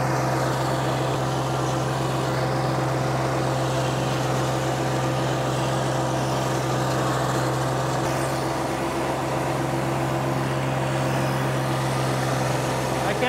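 A tractor engine labours steadily uphill while driving a sprayer through its PTO, a loud, constant low droning rumble that fills the whole stretch without letup.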